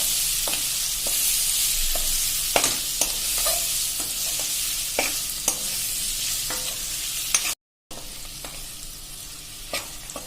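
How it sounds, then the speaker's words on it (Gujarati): Chili peppers coated in masala fry over a slow flame, a steady close sizzle broken by repeated sharp scrapes and taps of the spoon as they are stirred, with one brief cutout near the end. "સ્લો ફ્લેમ ઉપર જ 2 થી 3 મિનિટ એને કૂક કરશું, એટલે મસાલો બધો આપણે એકદમ મરચામાં ચડી જાય"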